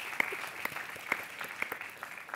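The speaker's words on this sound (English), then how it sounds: "Huge round of applause." Scattered, sparse clapping from an audience at a San Diego mayoral forum held at UC San Diego: a handful of distinct claps over a quiet room, fairly faint and distant, with no talking.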